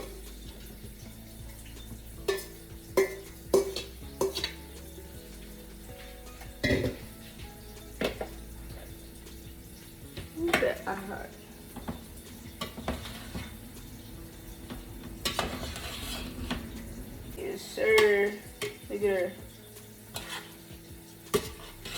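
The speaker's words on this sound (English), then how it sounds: "Stir that up." Kale greens, Beyond Meat sausage and onions in a pot are stirred by hand, giving intermittent scrapes and clanks of a utensil against the pot over a soft sizzle, close and fairly quiet, with pauses between strokes.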